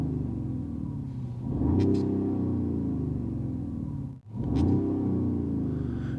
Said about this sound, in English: as soon as I start up the engine sound, just listen to that, it kinda reminds me of the V8